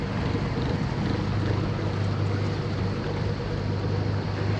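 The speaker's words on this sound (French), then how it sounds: "il y a le dessal qui tourne, il y a le moteur qui tourne" Sailboat at anchor with its engine and desalination watermaker running, a steady dense rumbling drone with constant broadband hiss and wind noise, unbroken and close throughout.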